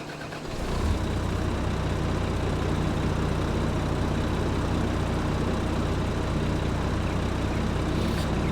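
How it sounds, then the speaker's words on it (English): A Valtra tractor engine in Farming Simulator 22 cranks and fires after a brief quiet moment, then settles into a continuous, even idle hum for the rest of the stretch. "We'll go outside and we'll turn on the engine."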